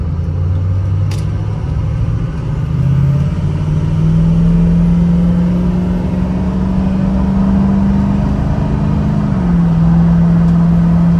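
A 2006 Ford F-250 Lariat 4WD pickup with a 6.0L Powerstroke V8 diesel accelerates at half throttle toward highway speed, its steady low drone rising gradually in pitch with a brief shift near the end, heard from inside the cab.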